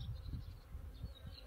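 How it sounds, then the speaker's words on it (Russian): Bees at a garden apiary hum with a soft, steady buzz, with a few faint insect passes rising and fading over quiet outdoor background. "Пасека немножко гудит."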